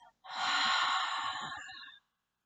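One long, deep exhale through the mouth during a guided breathing practice, a soft breathy rush lasting nearly two seconds, close and alone with no talk over it.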